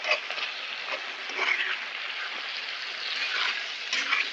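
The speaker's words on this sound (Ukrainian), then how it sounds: "Гарно все перемішуємо" Pork and vegetables are stirred in a frying pan over a lowered gas flame, giving a steady close sizzle with gentle scraping swells.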